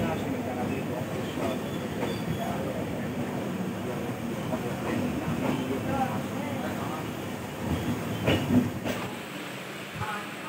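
The Howrah–Bolpur Shantiniketan Express pulls into Bolpur station, a steady rumble of train wheels and carriages with faint rail clatter, the noise easing off near the end as people talk in the background.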